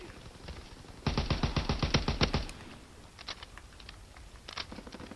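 Rapid automatic gunfire from a Call of Duty WW2 weapon, one sustained burst of about a dozen evenly spaced loud shots, followed by scattered fainter distant shots and a short second burst.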